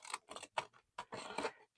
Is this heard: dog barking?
no